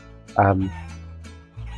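Chickens cluck in the video game Guacamelee, a loud close squawk followed by softer clucks, with a voice talking over the game sound.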